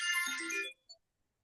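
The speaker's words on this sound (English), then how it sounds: "My phone rang on my iPad." A phone ringtone sounds from an iPad, a bright melodic burst heard alone and close, cutting off abruptly after a moment, followed by one short faint tone.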